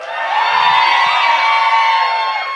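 Live audience at a comedy show cheering and whooping loudly in a sustained burst, a dense crowd roar that holds steady for a couple of seconds.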